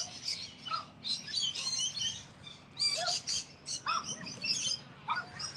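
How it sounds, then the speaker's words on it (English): Several magpies chatter and call in overlapping bursts outdoors, harsh chirps and warbling notes repeating fairly loudly with no talking. "Listen to those magpies."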